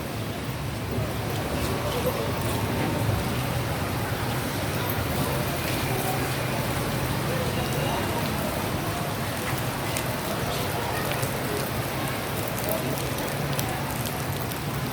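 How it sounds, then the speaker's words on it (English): Rain falls steadily at an outdoor public market in La Libertad, Negros Oriental, Philippines, a broad constant patter on surfaces, with passing road traffic and occasional people talking over the wash. "Oh, it's starting to rain again."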